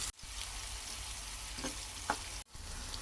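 Tempering seeds, green chillies and chopped onions fry in hot oil in a pan for a gongura dish with dried prawns. A steady, bright sizzle runs continuously, briefly cut twice, with a few faint stirring clinks.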